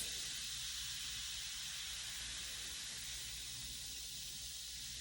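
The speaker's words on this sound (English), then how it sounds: "Now it's not really hot lava, it's just fizz." An apple volcano science experiment fizzes with a steady, loud, broad hiss that runs unbroken for the whole stretch, with no talk over it.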